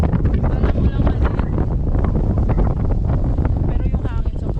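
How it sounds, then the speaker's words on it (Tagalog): Strong wind at sea buffets the microphone in a constant, loud roaring rumble, with faint water and boat noise beneath and a voice briefly audible through it. "Pero yung hangin sobrang kaklas."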